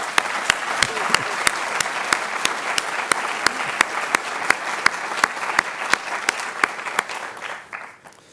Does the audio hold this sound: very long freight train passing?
no